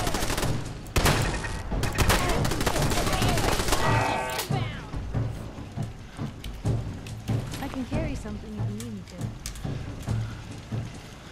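Rapid bursts of close-range machine gun fire in Fallout 4, dense and loud for the first few seconds, then fading into scattered, quieter shots with game noise and some talk.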